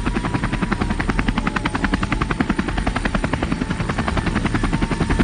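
Air America helicopter in flight with a steady, rapid rotor chop that stays loud and close throughout, with no voices over it.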